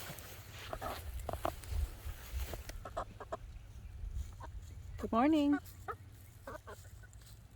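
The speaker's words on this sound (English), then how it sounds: "They're finally starting to sound like chickens." Chickens cluck in short scattered bursts nearby, with one longer rising squawk, while a person briefly speaks a greeting.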